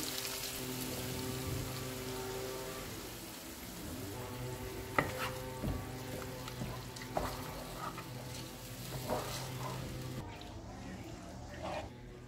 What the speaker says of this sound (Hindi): दही को मैंने अच्छी तरह मिक्स कर दिए